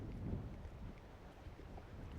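Wind gusting across the back deck of a fishing boat, a steady low broadband rush that swells slightly early on and keeps buffeting without break, with no talk.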